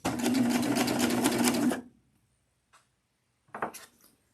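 A serger sewing over quilt binding runs in a fast, steady mechanical whir for under two seconds, then stops; after a pause comes a brief second burst of stitching, close and clear with no voices.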